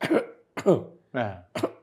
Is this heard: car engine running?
no